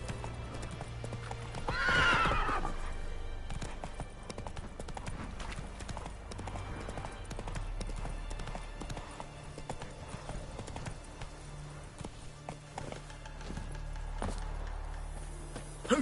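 Roach, Geralt's horse in The Witcher 3, clip-clops along with steady hoof beats and lets out a clear whinny near the start, over soft game ambience and low music.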